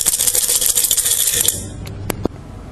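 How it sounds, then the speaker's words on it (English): Dry beans or pulses are shaken hard in a jar or container, making a dense, loud rattling for about a second and a half, followed by a few separate clicks as the beans settle. "dry beans or pulses put in a jar or container,"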